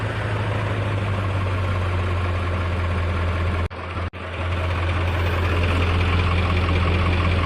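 A diesel truck engine, recently fitted with a new alternator, oil pump and water pump, idles loudly and steadily after a cold start, with a low, even knock and two brief dropouts partway through.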